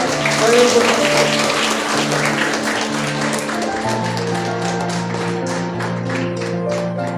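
A seated audience clapping at a motivational talk, steady rapid applause mixed with sustained musical tones underneath, loudest at the start and holding for about seven seconds.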